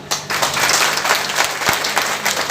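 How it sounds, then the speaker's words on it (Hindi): An audience at a business meeting in Jehanabad, Bihar breaks into loud, sustained applause, a thick burst of many hands clapping close and strong from start to finish. "एक बार तालियां बजा दो।"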